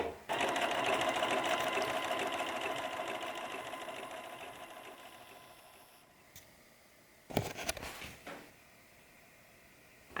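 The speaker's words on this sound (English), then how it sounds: "I tried to use my sewing machine to put the zipper in" A sewing machine stitches a zipper into a gingham dress, running in a fast steady whir that slowly fades over several seconds, then stops, followed by a short burst of clattering handling noise near the end.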